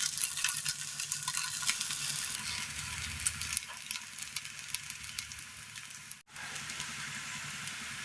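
Snack pieces frying in hot oil in a home kitchen, a steady loud hiss and crackle of sizzling with a brief dip near the end.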